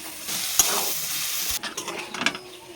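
Potatoes and figs being stirred in a frying pan for kofta, a spatula scraping and clattering against the pan over a soft sizzle as the water cooks off, with louder scrapes toward the end.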